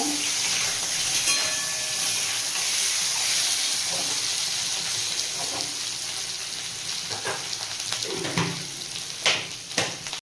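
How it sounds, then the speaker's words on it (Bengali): Potatoes frying in oil with salt and turmeric, cooked for a potato vegetable dish, give a steady close sizzle throughout, broken by occasional stirring scrapes and clicks. "আলুর মধ্যে একটু নুন আর একটু হলুদ দিয়ে দেব ভালো করে ভেজে নেব"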